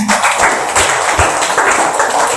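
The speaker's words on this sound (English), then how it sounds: "Clap a big round of applause for our Yashika." An audience claps for a student's performance at a school Shivaji Jayanti celebration, a loud, close, fairly dense burst of clapping with a few heavier individual claps standing out, without talk.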